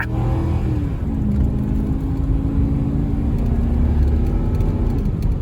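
A 2005 Ford F-150 engine revs hard with wheel spin on very wet pavement, a loud, sustained drone that rises slightly in pitch throughout, close up, with no talk.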